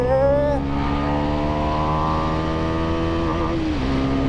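A Bajaj Pulsar NS400Z motorcycle accelerates on a straight run, its engine note rising steadily in pitch through a long gear, loud and close, with a brief shift near the start.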